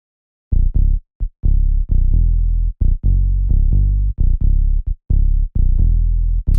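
Analog synth patch of two sawtooth oscillators through a low-pass filter, dry and unprocessed, playing a choppy sequence of short and sustained buzzy notes with bright harmonics, loud and close, no voices.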